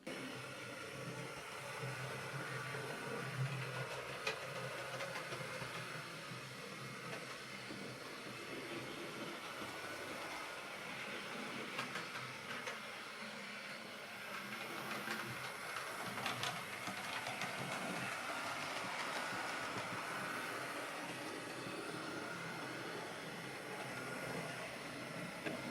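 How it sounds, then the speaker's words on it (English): A Sonic Models GCR 9N class model locomotive running over points on a model railway track, giving a steady, fairly quiet mechanical whirr and rolling rattle that continues without a break for the whole stretch, with no voices. "I am curious to see how it gets on with only 6 pickups on the locomotive on the points"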